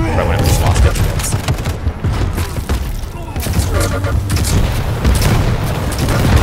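Shotgun blasts and dense combat noise in the arena shooter Quake Champions, loud booming shots and explosions piling over one another continuously, with a player talking excitedly over the action.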